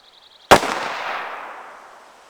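A single sharp gunshot from a Lincoln Derringer muzzle-loading pistol, a loud crack followed by a long fading reverberant tail; a faint high tone is audible just before.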